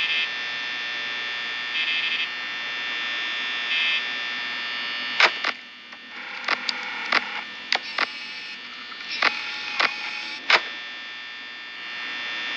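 Electronic beeping in the Five Nights at Freddy's video game, a series of sharp short beeps in an irregular rhythm over a steady buzzing electronic hum.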